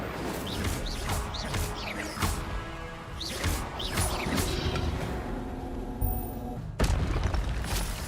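Incendio fire spell cast in Hogwarts Legacy, a series of whooshing, bursting blasts with booming impacts and crackling flame over several seconds, ending in a sudden loud burst.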